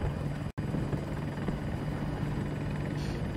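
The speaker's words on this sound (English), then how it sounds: "I like being able to swivel the chopper gunner around 360 though." A helicopter in Battlefield 2042 gameplay gives a steady, loud rotor thrum and engine drone, heard close, with a brief dropout near the start.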